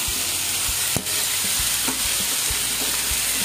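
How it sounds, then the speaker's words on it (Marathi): Potato pieces frying in hot spiced oil tempering in a pan give a steady close sizzle, broken by several sharp clicks and knocks of stirring. "आता आपण ह्याच्यामध्ये ऍड करणार आहोत बटाटे."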